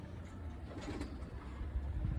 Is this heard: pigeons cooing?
yes